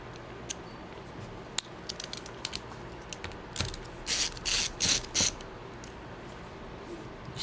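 Screws being backed out of a PC case during a repair, heard as sparse small clicks and a few short bursts of ratcheting screwdriver whirring, close and quiet with no talking.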